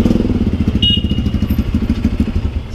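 A motorcycle engine idles close by with a steady rapid thumping pulse, loud and even throughout while the bike is brought to a stop for parking.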